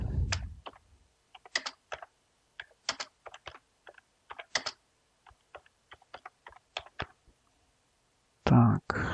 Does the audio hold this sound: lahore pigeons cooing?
no